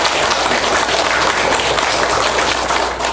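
A church congregation applauding during a service, a broad continuous wash of clapping from many hands, loud and even throughout with no speech over it.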